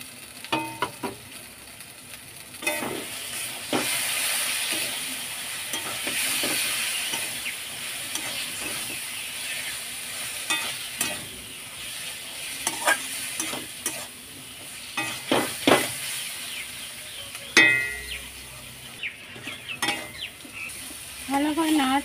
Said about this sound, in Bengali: ভালো করে নাড়াচাড়া করে নিই